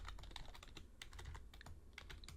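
Quick, quiet keystrokes on a computer keyboard as Java code is typed, irregular clicks and taps in short bursts, close up with no talking.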